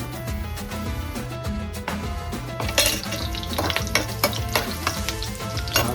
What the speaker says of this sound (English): add a small piece of onion and let it cook for a minute to infuse the fat